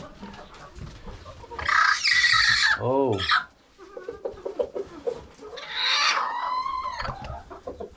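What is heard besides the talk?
broody hens clucking in chicken coop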